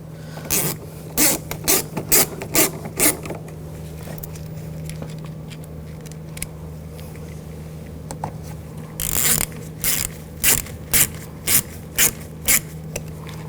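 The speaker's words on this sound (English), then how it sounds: "Now get this screw started. And these other screws, get these started." Close, repeated rapid clicking bursts as screws are started by hand on a 2000-2006 BMW X5 front window motor, with a steady low hum underneath and no speech.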